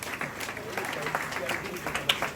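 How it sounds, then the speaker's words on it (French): Applause for young rugby champions, the under-20 vice-champions of Martinique, at an honours ceremony, scattered clapping at moderate level with voices talking over it. "Allez, les applaudissements pour les petits coqs."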